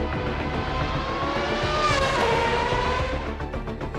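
A Formula One car engine of over 800 horsepower screams at high revs toward 18,000 RPM at Laguna Seca, a loud sustained whine with the pitch sweeping as it passes close by.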